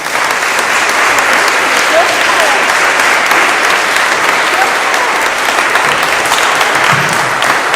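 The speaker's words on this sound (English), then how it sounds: "big round of applause for the panel" Loud, dense applause from a seated audience for a panel at the close of a discussion event, a continuous wash of clapping close to the listener and holding steady.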